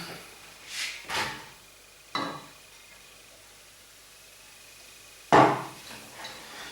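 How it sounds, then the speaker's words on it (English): A pan clunks down onto the stove and chopped onion goes straight in with no oil for a keema jalfrezi, giving a few separate, fairly close knocks and clatters with quiet gaps between them and no talking. "get another pan straight on the heat and get in your onion"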